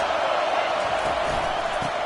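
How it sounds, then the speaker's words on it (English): Stadium crowd in a college football video game, a steady loud roar of massed voices filling the air continuously, with no distinct claps or individual shouts standing out. "They are pinned deep, and this crowd is letting them have it."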